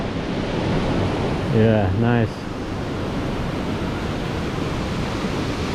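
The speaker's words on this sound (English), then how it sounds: "Water dropping." At the Fin del Mundo waterfall in the Amazon jungle, water drops from under a rock in a constant loud, broad rushing roar. A voice speaks briefly near the start.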